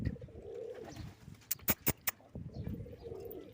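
Soft, low pigeon cooing rises and falls, broken midway by a few sharp clicks or flaps, then the cooing resumes.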